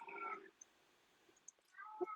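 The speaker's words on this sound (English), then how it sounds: "can you hear that cat?" A cat meows twice indoors, both faint, one at the start and a second shorter one near the end, with quiet stillness between them.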